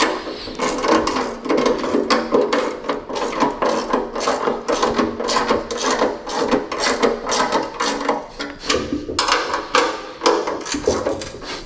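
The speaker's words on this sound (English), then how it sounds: "I have a 17 wrench and socket. Going around, tighten them up a little bit" A 17 mm wrench and socket tighten bolts on a heavy-duty trailer hitch motorcycle carrier, with rapid, repeated ratcheting clicks in steady back-and-forth strokes, loud and close throughout.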